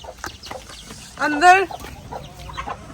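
A hen in a home farmyard in India gives a short, loud cluck and squawk burst in the middle, with softer scattered clucks around it and someone speaking in Hindi nearby.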